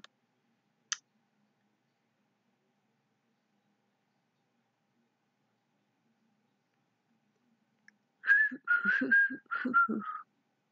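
A person whistles a short tune, a quick run of bright, warbling notes near the end, preceded by a couple of faint clicks and mostly silence.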